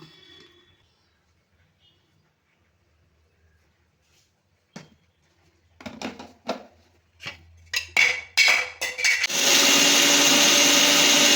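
Roasted spices with a pinch of asafoetida ground into powder in a kitchen mixer: a few clacks and short motor bursts of the jar being handled, then the grinder running loud and continuous at the end.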